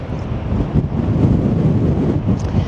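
Strong gusty wind buffeting the microphone on the Blackpool seafront, a loud continuous low rumble with surging gusts and no speech.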